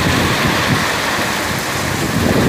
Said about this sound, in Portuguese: Tá forte a chuva, viu?